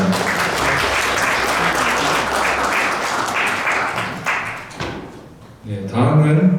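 An audience at a memorial ceremony for the late chairman Park Tae-joon applauds in a loud, sustained burst that tapers off, followed by a short pause and a few thumps near the end.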